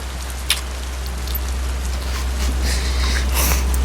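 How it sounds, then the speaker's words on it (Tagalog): Rain falling, a steady soft hiss of drops on surfaces with a brief tap near the start, continuous and moderately loud over a low background hum. "nakalimutan ko, umuulan pala"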